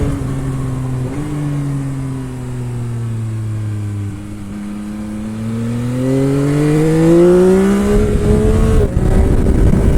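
A Yamaha XSR 900 motorcycle engine revs through the gears, its pitch climbing, briefly dropping at each shift, then climbing again, loud and close with rising intensity toward the end.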